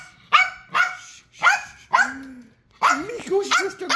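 A dog barks repeatedly at close range in a rental holiday home, about eight sharp barks in uneven bursts, some running into whiny yips near the end.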